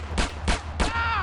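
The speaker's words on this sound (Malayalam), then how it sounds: "അതാ മറ്റവനെ വെടിച്ചിട്ട് കൊന്നു" Three sharp gunshots ring out in a video game, evenly spaced about a third of a second apart, each a loud broadband crack with a short ringing tail after the last.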